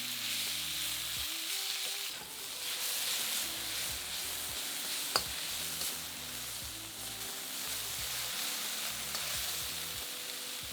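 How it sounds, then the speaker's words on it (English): Seasoned beef steak frying in a hot wok for chow mein, a loud, continuous hiss of sizzling oil with occasional stirring knocks and one sharp clack, close and without speech. "Then add the seasoned steak to the wok and fry for 2 to 3 minutes, turning a couple of times until the steak is just browned and cooked."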